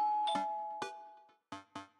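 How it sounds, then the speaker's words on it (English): A doorbell rings in the Dream Daddy video game: a two-note chime with ringing tones that fade, followed by two short, softer strikes, heard alone without talk. "the doorbell rings."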